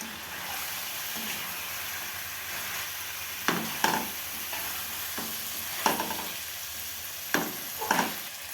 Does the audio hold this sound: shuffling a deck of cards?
no